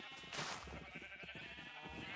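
Sheep on a farm in a video game bleat softly, a cluster of quick wavering calls close by, quiet and unaccompanied by talk.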